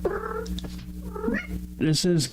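A female cat in heat yowling, with drawn-out, wavering cries close by, a pause, then two louder rising yowls near the end.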